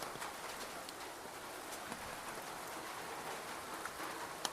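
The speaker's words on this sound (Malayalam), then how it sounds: "എന്താ മഴ എത്തി" Steady rain patters outdoors in a Kerala fish-cleaning setting, a quiet, even hiss of drops with a few sharper taps and no voices.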